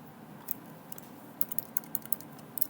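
Typing on a computer keyboard while writing text into PLC programming software, quiet scattered key clicks in short irregular bursts, close and faint over a soft room hum.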